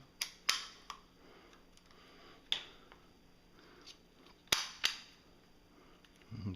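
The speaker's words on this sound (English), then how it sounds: "Nub popped in like it's supposed to" Several sharp plastic clicks and snaps, sparse and close, as a plastic nub on a grip extension pops into place, with quiet handling noise between them.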